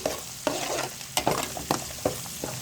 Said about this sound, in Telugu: అంతా కలిసేలాగా ఒకసారి మిక్స్ చేసుకోవాలి